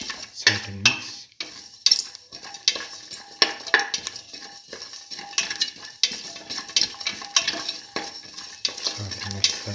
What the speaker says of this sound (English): Keep on sauteing. Thoroughly saute and mix.